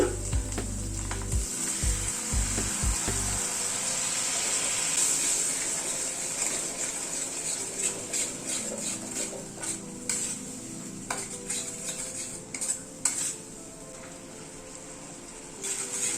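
A cashew and poppy seed paste is sautéed and stirred in a pan, giving a continuous sizzle with repeated scraping and clinking of a utensil against the pan. A few heavier knocks sound near the start.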